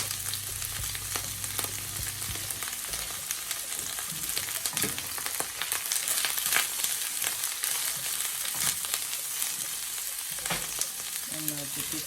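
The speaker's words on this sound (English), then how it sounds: "Adding onions." Onions frying in a pan for a quick healthy breakfast, a steady close crackling sizzle with scattered pops and stirring clatter, no talking over it.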